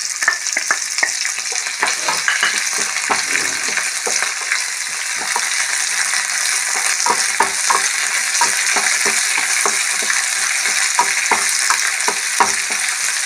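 Shallots, garlic and curry leaves fry in hot oil in a pan, with a loud, continuous close sizzle and frequent small crackles and stirring scrapes throughout.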